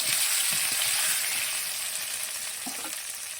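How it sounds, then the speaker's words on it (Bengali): Potatoes coated in turmeric and salt fry in hot oil with a steady, close sizzle, broken early by a few soft stirring knocks and one more later. "আলু ভালো করে ভেজে ওটাকে হলুদ লবণ মাখিয়ে নিয়ে তেলে দিয়ে দিলাম"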